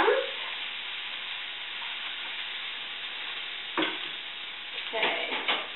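Corn, broccoli and mushrooms sizzle and are stirred in a frying pan, a steady close hiss with scraping stirs breaking through near the end.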